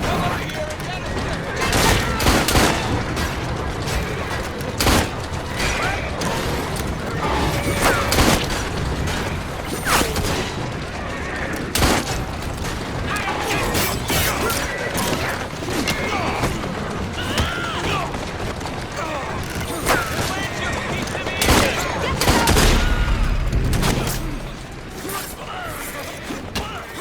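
Gunfire in the video game Assassin's Creed Syndicate, a dense run of sharp shots and crashes over about half a minute, loud and continuous, with people talking underneath.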